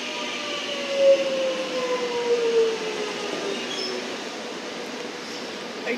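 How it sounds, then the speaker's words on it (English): A Melbourne Metro Glen Waverley train pulls into platform 2 at Holmesglen station, a steady broad rumble with a thin wheel squeal running through it, heard close and continuous with no talk. "we will catch our first glimpse of the Glen Waverley train that's arriving on platform 2"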